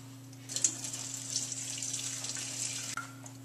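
Hot chicken stock pours steadily into a stainless steel bowl with a continuous splashing hiss, close and even, with no one speaking.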